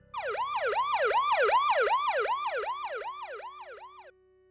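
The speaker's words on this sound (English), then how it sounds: "I heard sirens in the distance." A wailing emergency siren sweeps up and down in a steady repeating cycle, clear and fairly strong, then cuts off near the end.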